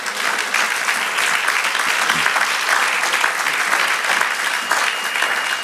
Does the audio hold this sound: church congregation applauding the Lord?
yes